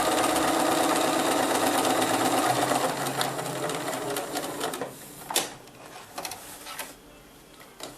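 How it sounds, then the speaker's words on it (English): A sewing machine stitches a quilt border from corner to corner, whirring steadily and loudly at first, then breaking into shorter bursts with brief pauses near the end. "I'm going to stitch from corner to corner"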